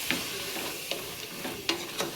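Ridge gourd, beans, peas and fresh pigeon peas frying in oil for vegetable masala sagu, a faint, soft sizzle with several sharp spoon-on-pan clinks at intervals.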